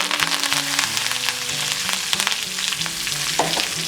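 Red chillies, asafoetida and curry leaves frying in hot oil for a tempering, a loud steady sizzle and crackle with stirring sounds, close up and with no talking.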